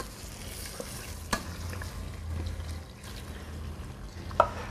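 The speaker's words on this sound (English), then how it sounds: "My meat is in, sizzling away already." Steady, quiet sizzling of meat frying in a pan, with a few soft clicks and knocks of a utensil against the cookware.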